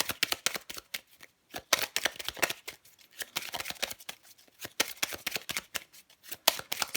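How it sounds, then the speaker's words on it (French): Tarot cards are shuffled and drawn close by, giving bursts of crisp riffling and flicking with short gaps between them. The sound is fairly quiet and has no talking. "je prends encore une carte pour vous"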